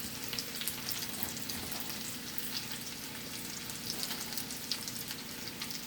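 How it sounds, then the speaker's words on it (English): Garlic sautés in a pan over medium heat for a Southern-style cabbage dish, a soft steady sizzle with fine crackles throughout, fairly quiet and close, with no speech. "we're gonna let this saute for a few minutes. This and our garlic"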